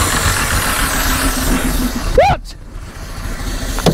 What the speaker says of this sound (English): If I just try cranking it a few more times, and here's my throttle control, and just see what happens